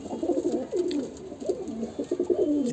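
Pigeons coo repeatedly in soft, rhythmic rolling calls, fairly close and steady against a low background hum.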